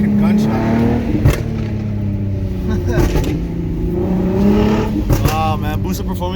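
A turbocharged Nissan 370Z with a comp turbo and boosted performance kit accelerates hard, engine note climbing in pitch through a gear before dropping and rising again, with excited voices talking over it inside the car.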